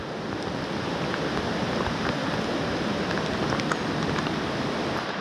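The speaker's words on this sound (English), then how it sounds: "And the rain just start going down harder and harder." Heavy rain pours steadily onto a river pool while fly fishing for brown trout, a dense, even hiss of drops on water throughout, moderately loud with no voices.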